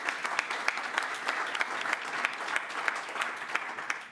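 An audience at a university history lecture breaks into applause for a speaker being introduced, a dense, steady patter of many hands clapping at a moderate distance for several seconds.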